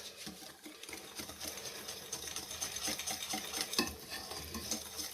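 Cornstarch dough for Algerian cookies being mixed in a bowl, a close, busy run of rubbing and scraping strokes with a faint rattle of utensils, steady and moderately quiet, with no voices.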